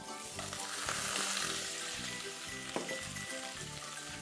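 Meat frying in a pan with browned onions, ginger and garlic for a Somali stew, a loud, steady close-up sizzle with soft stirring scrapes running throughout.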